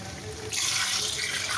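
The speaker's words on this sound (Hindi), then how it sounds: "अब हम पानी डालेंगे" Water poured into a cooking pot for chana pulao, starting abruptly after a quiet moment and continuing as a loud, steady rushing splash, like a tap filling a vessel, with no voices.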